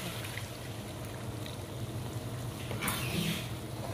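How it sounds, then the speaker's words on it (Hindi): Diluted yogurt thinned like lassi being poured into simmering keema in a cooking pot, a soft, continuous liquid trickle and gentle sizzle, fairly quiet with a slightly brighter splash toward the end. "अब इसके अंदर जा रही है दही"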